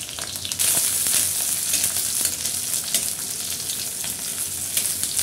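Chopped garlic and a broken dried chilli sizzle steadily in hot oil in a pan, a close, continuous crackling hiss with scattered pops and no talking.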